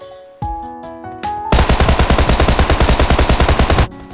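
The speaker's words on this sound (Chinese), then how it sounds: "首先是汤姆逊冲锋枪，我们来仔细听一下他开枪的声音" A Thompson submachine gun fires in the mobile shooter Game for Peace: a few single loud shots, then a fast, steady, rattling automatic burst of about two and a half seconds, close and sharp.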